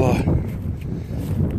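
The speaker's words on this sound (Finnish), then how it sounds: "Tuulee." Wind blows outdoors on a mild day, a steady low rumble buffeting the microphone throughout, with a voice faintly present beneath it.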